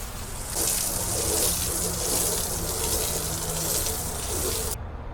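Running water rinses soap off a window cleaner, a steady close gushing hiss that carries on for several seconds before stopping abruptly.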